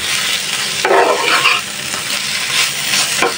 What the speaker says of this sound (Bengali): তো ইলিশ মাছ ভাজি করছি